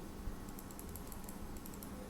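Steady typing on a computer keyboard while entering numbers into a calculator function, soft continuous key clicks over a low background hum, no voices.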